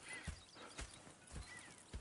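Four slow hoof thuds on hard ground in Red Dead Redemption 2, spaced about half a second apart, with a faint whinny-like tone and quiet ambience behind.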